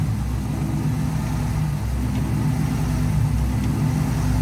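A car engine idles steadily just after a head gasket replacement, a continuous low, even rumble heard close up with no revving and no voices.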